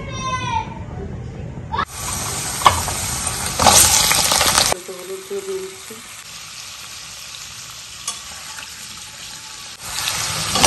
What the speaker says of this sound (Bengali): এখন কড়াইতে আমি পরিমাণ মতো তেল দিয়ে নিচ্ছি, আলুগুলো আমি একটু ফ্রাই করে নেবার জন্য।